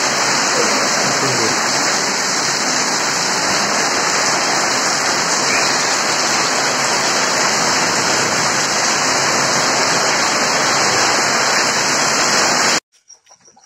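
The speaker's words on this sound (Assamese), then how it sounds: "বহুত বৰষুণ পৰিলে আজি চাওক" Heavy rain pours down in a steady, dense hiss at home during a puja day, loud and unbroken for several seconds before cutting off abruptly.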